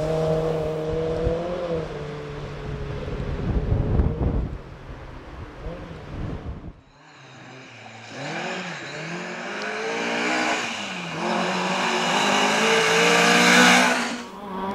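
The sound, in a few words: rally car driving on a historic stage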